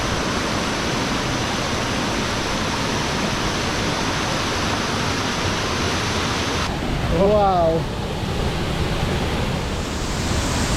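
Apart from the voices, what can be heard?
waterfall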